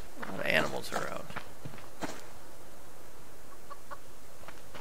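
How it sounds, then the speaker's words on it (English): A chicken clucks a few times in the survival video game Subsistence, brief bursts near the start over quiet ambience, with a voice speaking alongside. "Chicken."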